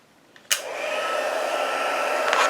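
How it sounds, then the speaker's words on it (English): A heat gun switches on with a click and a burst, then blows a steady, close airy whoosh for warming embossing powder on cardstock, with no talking. "now I'm going to get my heat gun. I'm going to heat it up."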